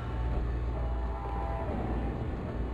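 A train in the Batman Telltale Series game gives a steady, loud low rumble with a faint tonal whine above it, continuous throughout without any voices.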